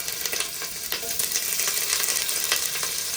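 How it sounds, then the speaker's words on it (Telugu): Paneer pieces fry in a pan with a close, continuous crackling sizzle, busy with small pops and occasional stirring. "ఇప్పుడు మనం ముందుగా కట్ చేసి పెట్టుకున్న పన్నీరు పీసెస్ని ఇలా వేయించుకోవాలి"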